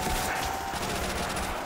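A Thompson submachine gun fires in a zombies video game, a continuous dense burst of rapid automatic gunfire that lasts the whole stretch.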